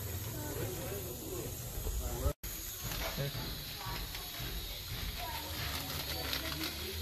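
Ghee sizzles steadily in a pan of frying kaleji (goat liver) with mixed spices, a loud continuous hiss and crackle with a brief dropout partway, while a person talks over it.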